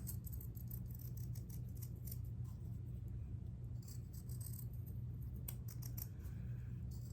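Scissors trim quilt fabric in a quiet room, giving faint, irregular snips and light rustles over a low steady hum, with no one speaking.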